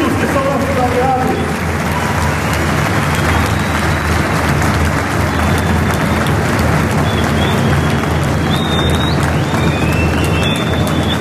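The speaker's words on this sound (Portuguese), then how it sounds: "eu quero pedir uma salva de palmas a todos os nossos convidados que estão aqui" A crowd applauds the invited guests from allied parties at a PC do B state party conference in Maranhão. The clapping is steady and dense, lasts the whole stretch at high volume, and includes faint scattered cheers.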